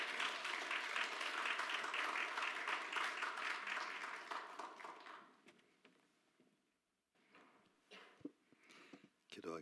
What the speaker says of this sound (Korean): 저희 목사님 나오실 때에 다 같이 박수로 환영해 주시면 감사드리겠습니다